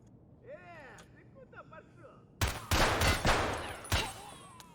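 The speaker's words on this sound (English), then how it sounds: "I didn't know if this was a player scav shooting at another scav, or if this was an AI scav shooting at a player." Rapid bursts of gunfire from scavs in a video game firefight, loud and close with several volleys in quick succession. The shots come after a stretch of quieter game sounds, and voices are heard in the background.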